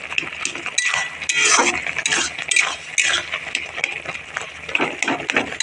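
Boiled aubergine stirred and mashed in a pan in a village kitchen, giving repeated close scraping and squelching strokes with clinks of the utensil against the metal, irregular and fairly loud.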